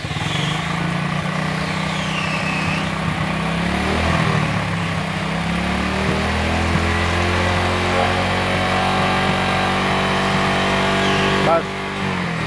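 Hero motorcycle engine idling and revving with the throttle during a battery charging check in a workshop, close and loud with rising and falling pitch, while someone talks over it.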